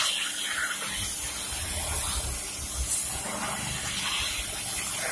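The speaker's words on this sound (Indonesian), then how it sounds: "Nah ini kita semprot talangnya." Water sprays from a hose onto an air conditioner drain gutter to wash out moss, a steady loud hiss and splash going on without a break.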